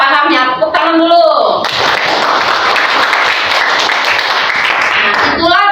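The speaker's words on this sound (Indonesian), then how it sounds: "Tepuk tangan dulu." Children in a classroom during a lesson burst into loud, dense clapping after brief speech at the start, the applause sustained for several seconds before voices return at the end.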